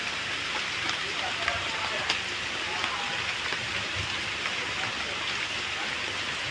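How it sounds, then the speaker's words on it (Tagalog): Heavy, unbroken rain from Typhoon Enteng pours steadily as a dense, even hiss of drops striking surfaces, loud and close, with a voice faintly talking underneath. "tuloy-tuloy ang pagulan, bigla ang pagulan dito"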